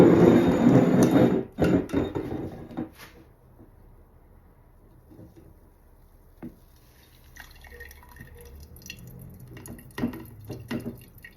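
Homemade almond milk is strained and poured, splashing loudly for a moment, then slowing to scattered faint drips and small clinks in a quiet room.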